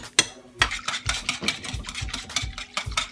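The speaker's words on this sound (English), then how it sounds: "And keep whisking until this thickens up." A whisk scrapes and beats sauce in a pan on a stove set to high, a fast rhythmic series of sharp clinking strokes at close range.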